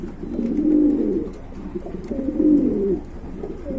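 Pigeons at a pigeon market give two soft, throaty coos, one after the other, close by and fairly quiet over faint background noise.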